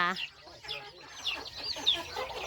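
A mother hen with young chicks clucks close by in a family farmyard, short repeated clucks alongside thin high chick peeps, with someone talking over them.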